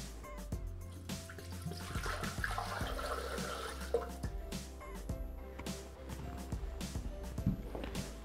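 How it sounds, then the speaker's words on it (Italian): Water is poured into a Thermomix TM6 jug while making carrot meatballs, with a continuous splashing flow, some knocks and clatter, and no speech. "Iniziamo la ricetta versando all'interno del boccale l'acqua."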